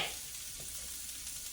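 Food browning in a hot pan gives a steady, close sizzle that holds evenly for the whole short stretch, with no voices over it.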